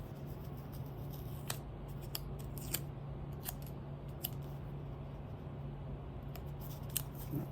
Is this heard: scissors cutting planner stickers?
yes